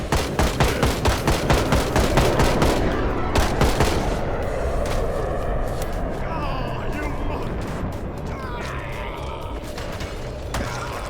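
Loud bursts of rapid gunfire in Project Zomboid, fast repeated shots that blur into a steady roar of noise.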